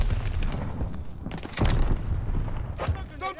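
Gunfire and a grenade explosion in the Call of Duty: Vanguard video game make a dense wash of rumbling booms and crackling shots. A heavier blast hits midway, all loud and continuous under faint game voice sounds.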